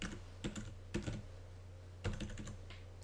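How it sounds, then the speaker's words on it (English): Someone types an email address on a computer keyboard in short bursts of soft, close key clicks with brief pauses between them. "Here you can type in an email address,"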